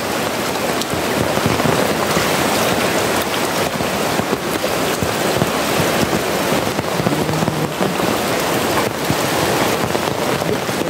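Heavy, relentless rain pours during a flood, a dense and steady roar of drops on surfaces with gusty wind noise that continues throughout, without any speech.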